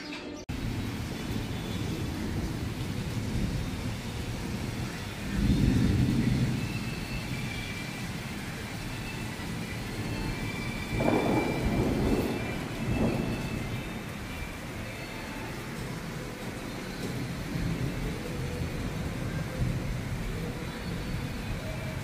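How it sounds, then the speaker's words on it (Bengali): A heavy monsoon downpour hisses steadily and loudly, with deep rolls of thunder rumbling through it at a few points. "একদম ঝেঁপে বৃষ্টি এসে গেল।"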